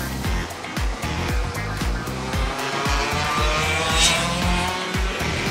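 A stream of 125cc Junior racing karts leaves the pit lane on a wet outdoor track, engines buzzing and revving loudly as they pass one after another, with tyres hissing on water.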